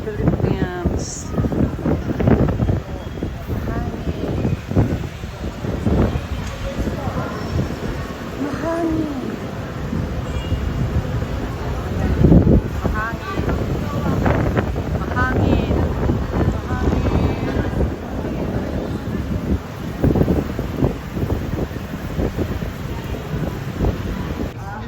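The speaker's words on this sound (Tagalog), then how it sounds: "Windy in the Philippines." Strong outdoor wind in Manila, Philippines, buffeting the microphone in gusty rumbling bursts, with faint voices underneath.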